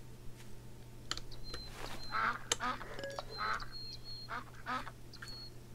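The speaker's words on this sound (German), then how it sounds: "Da ist eine Ente." A zombie duck quacks in the video game Night of the Dead, several short raspy quacks spread over a few seconds, faint and mid-distance, with clicking and a steady low hum underneath.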